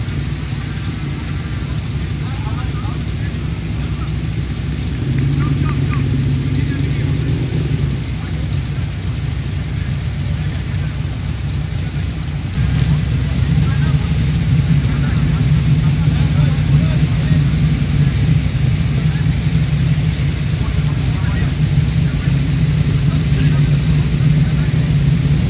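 Tough muscle cars roll into a Cars & Coffee meet in Western Sydney parklands, their engines giving a deep, continuous rumble. The rumble grows heavier and louder partway through as more cars pass close by.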